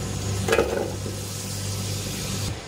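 Sliced medium onions dropped into half a cup of hot oil, frying with a steady close sizzle after a brief louder splash at the start, no talking.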